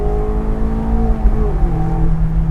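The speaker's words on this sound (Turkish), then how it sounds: "güzel bir egzoz ve motor sesi var" A stock 2017 Mazda MX-5 roadster engine hums steadily with a deep exhaust rumble, its pitch sliding slightly as the revs shift, heard from inside the car.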